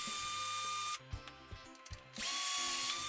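Power driver spinning out screws from the hinge pin block of a Fireteam 6s RC car, close whirring bursts separated by a quieter gap with small clicks of handling.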